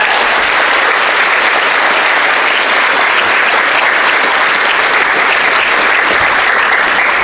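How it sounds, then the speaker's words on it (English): Loud, sustained applause from a large audience at a 2023 high school graduation ceremony, a dense, even wash of clapping with no pause over several seconds. "These students deserve another round of applause."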